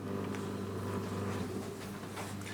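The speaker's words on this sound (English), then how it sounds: "The noise you're hearing now is it's still doing its centering of the steering wheel." Motor of a Heathkit Hero Junior robot whirs steadily while centering its steering wheel, a continuous low buzzing hum heard close up and fairly quiet, with no talking.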